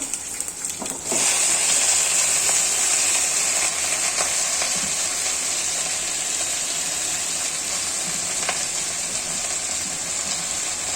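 Panch phoron spices sizzle in hot oil in a pan for a jute leaf stir-fry, a steady close hissing crackle that starts abruptly after a brief clatter and continues evenly.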